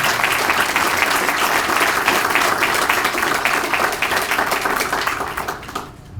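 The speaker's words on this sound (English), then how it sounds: "Give him a round of applause as well." A crowd at a police swearing-in and promotions ceremony gives a sustained round of applause for a police chief, loud and steady before fading near the end.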